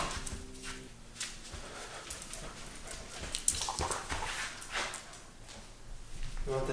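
An Alaskan Klee Kai mini husky whimpering and snuffling up close, soft intermittent whines and snorts scattered over several seconds.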